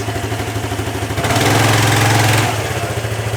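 A Piaggio ET4 scooter engine runs close by with a rough, pulsing idle, swelling briefly as it struggles to rev and then dropping back to the uneven idle.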